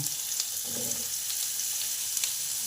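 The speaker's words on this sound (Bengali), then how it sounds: "পেঁপেটাকে আগে দিয়ে দিলাম" Papaya pieces fry in hot oil with chili and nigella seeds, making a steady, close, hissing sizzle throughout with a brief low clunk near the start.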